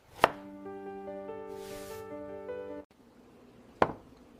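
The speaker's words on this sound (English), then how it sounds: "I cut the carrot." A kitchen knife cuts a carrot in an animated kitchen scene, with two sharp chops on a board over a soft musical tone.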